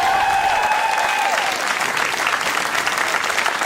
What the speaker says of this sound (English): One more time for Jeremiah and Bob. Make it loud.